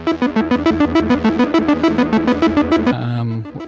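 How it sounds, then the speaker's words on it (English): Bright, synthetic electronic music from Octamed 4 on a Commodore Amiga 1200, with a fast repeating pulsed melody, ending on a held lower note; no drums are evident, and it plays loud and close. "a TV showing Octamed 4 running on a Commodore Amiga 1200, which can sound like this"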